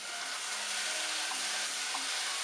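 Onions, ginger and garlic browning in a pan for dal tadka, giving a steady, dense hiss and sizzle that is close and continuous, with faint stirring and no talk.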